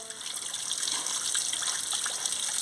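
Water splashes and trickles steadily while potatoes, eggplant and gima greens are washed together, a soft continuous flow close by.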